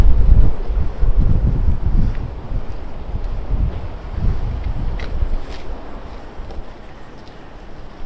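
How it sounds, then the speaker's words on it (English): Heavy storm wind buffeting the microphone outdoors, a loud low rumble that surges and fades in gusts before easing toward the end. "just mind the wind noise, we're currently experiencing storm Eunice"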